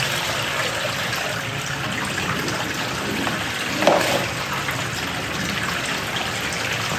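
Water running through a flour gold recovery machine, a steady broadband rush and patter that stays even and fairly close throughout, with one brief louder splash near the middle.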